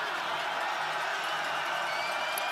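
A stadium crowd at a college football championship quarterfinal between Illinois State and UC Davis roars in a dense, steady wash of cheering that fills the whole moment without a break.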